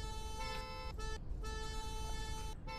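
A car horn sounds in a Roblox roleplay game, a steady tonal blare held for about a second, cut off, then sounding again for over a second, clear and loud against a low background hum.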